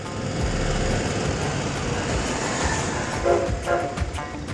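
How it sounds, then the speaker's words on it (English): A scenic railroad train passes in Colorado, heard as a continuous rumbling roar with wheel clatter, moderately near and steady throughout, with a rising surge toward the end. "Yeah, there's that scenic railroad."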